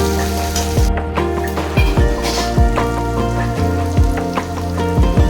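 Chopped tomatoes and onion sizzle in a hot pan with steady close-up crackling and popping, punctuated by repeated clinks of a utensil stirring, with no voices.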